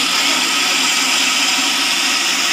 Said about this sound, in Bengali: মিক্সিতে ঘুরিয়ে নিয়েছি